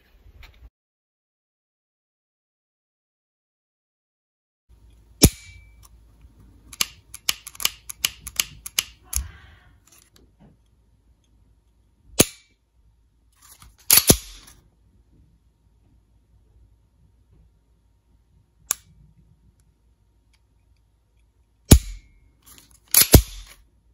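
Steel-cased 9mm rounds pressed one at a time into a Ruger magazine, giving sharp metallic clicks in a quick irregular run, then a few isolated snaps after pauses, close and dry with no talking.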